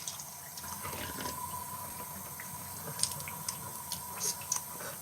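Tap water runs steadily into a bathroom sink while someone rinses their mouth, a continuous close hiss with a few brief splashes and drips near the end.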